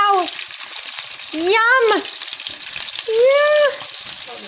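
Korean rice cake skewers (tteok-kkochi) frying in hot oil, a steady hiss running under two excited vocal exclamations.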